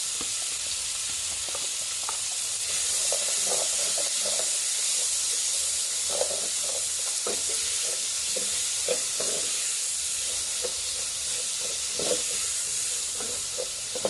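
Onions, sweet pepper and celery sizzle and hiss steadily in a pot for Bahamian black beans and rice, with crackling pops and occasional stirring clicks running through the continuous frying.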